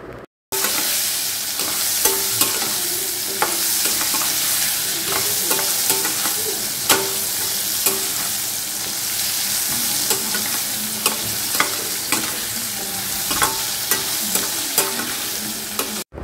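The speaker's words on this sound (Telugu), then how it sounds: "అన్నీ వేసుకున్న తర్వాత బాగా మిక్స్ చేసుకుంటున్నాను." Beans, carrot and potato being stirred in a hot pan, a loud continuous sizzle with a steady stream of spoon scrapes and clicks against the metal, close and uninterrupted by voices.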